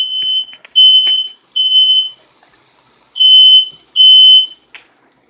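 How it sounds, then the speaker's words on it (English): A high, piercing smoke alarm chirps in several bursts of differing length, loud and close, with short quiet gaps and faint clatter between. "We just have a sensitive smoke alarm."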